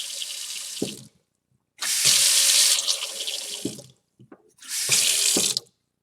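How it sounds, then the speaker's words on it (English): A Moen kitchen faucet runs water into a sink in three loud bursts after a cartridge replacement, switched off briefly in between, with gurgling as the flow stops. "cut your hot water and cold water back on"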